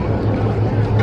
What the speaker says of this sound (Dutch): We zitten nu op de boot, maar de zee is echt heel wild.